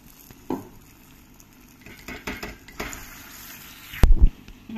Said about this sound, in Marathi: हे आता आपण असे याचे कोफ्ते तळून घेऊया